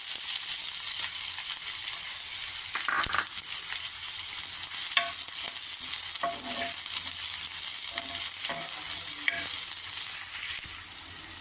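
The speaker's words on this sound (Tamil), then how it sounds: "அடுப்பில் தோசைக்கல் போட்டு எண்ணெய் ஊற்றிக்கணும். இப்போ வெங்காயம் போட்டுக்கணும்." Onions fry in hot oil on a dosa griddle for an egg kothu parotta, a steady close sizzle broken by scattered scrapes and clicks of a spatula stirring, with no voices.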